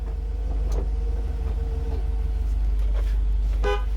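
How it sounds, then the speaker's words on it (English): A bus horn honked during a pre-trip inspection, with a short toot followed by a few brief blasts over a steady idling engine, fairly close. "Horn works."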